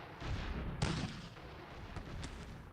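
Light Civil War artillery firing in Sid Meier's Gettysburg, a few sharp cannon reports ringing out against a steady battlefield rumble, moderately loud with no talking.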